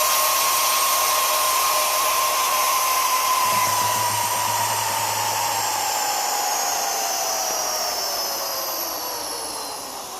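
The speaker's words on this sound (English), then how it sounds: "we are switch the pump off like this, and now I let the air back in" Air rushes back into a vacuum chamber after its pump is switched off, a loud steady hissing roar with a falling whistle tone that slowly eases, no voices.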